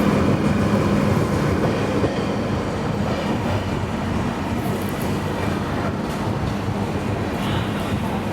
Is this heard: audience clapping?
no